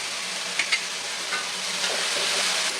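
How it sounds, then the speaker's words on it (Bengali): Potatoes frying in a pan, a steady soft sizzling hiss with a few brief stirring clicks near the start, close and continuous without talk. "আমি এই আলু ভাজি"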